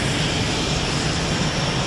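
Military aircraft engines at Marine Corps Air Station Miramar, fighter jets and cargo planes, a loud steady roar with no pauses or voices.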